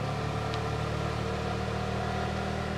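A three-wheeler's small engine drones steadily and evenly from inside the cab, a constant buzzing hum at moderate level with no clear change in pitch.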